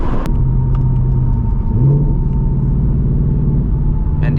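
Deep, throaty idle rumble of a 2024 Ford Mustang GT with an H-pipe exhaust, a loud, steady low drone close by with a slight rise in pitch partway through.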